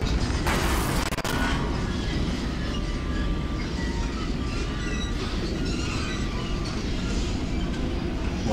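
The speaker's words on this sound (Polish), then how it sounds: "Cały sufit jedzie." A whole ceiling shifts and rumbles in the video game Portal 2, giving a heavy, continuous grinding roar with scattered metallic clanks and knocks, loud and close, with no voices.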